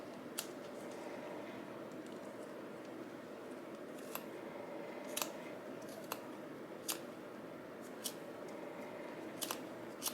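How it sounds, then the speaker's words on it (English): Small scissors snipping through yarn wrapped on a pom pom maker, with sharp, close, isolated clicks at irregular intervals over a steady quiet hiss. "So I got my little scissors. This should fit in there way better to cut that yarn."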